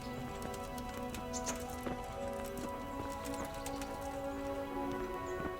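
Horse hooves clip-clop in the Kingdom Come: Deliverance video game, a steady patter of light hoofbeats at mid distance over a continuous ambient bed with a faint pitched drone.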